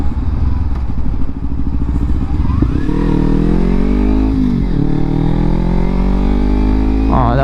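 A Kawasaki Ninja motorcycle engine, loud and close, revving with rising pitch, dropping at a rough gear shift, then climbing again steadily through the rest of the ride.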